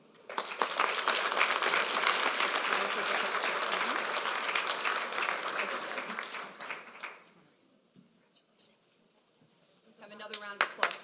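Audience at a business association public policy forum honoring executives and lawmakers breaks into loud, sustained applause for about seven seconds, then it fades to near quiet before a new burst of clapping starts at the end.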